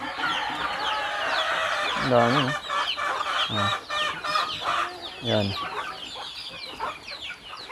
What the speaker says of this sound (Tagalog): Ang dami ring manok. Yan, oh. Bisaya na manok.